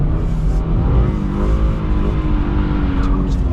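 A 2022 Subaru BRZ engine revs hard and holds high rpm during a drift, loud and close from inside the car, with faint tire noise beneath.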